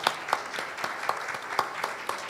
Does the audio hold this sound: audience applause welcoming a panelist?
yes